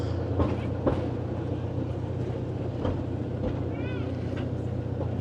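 A train pulls into a station on a Portuguese coastal route, a steady low rumble of wheels and motor with faint squeals of brakes near the end, under quiet speech.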